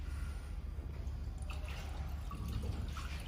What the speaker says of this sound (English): So how can we add the water to water tank? Just like this.